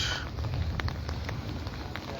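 Morning rain falls on a cloudy day by a river in Cumilla, a dense, steady hiss of drops close by, with occasional sharper patters through the wash.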